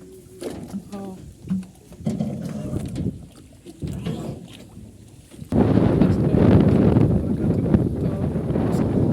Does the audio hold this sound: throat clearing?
no